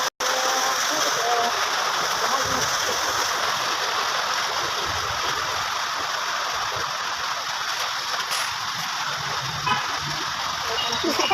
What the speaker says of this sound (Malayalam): നല്ല മഴ പെയ്യുന്നുണ്ട് ഗൈസ്.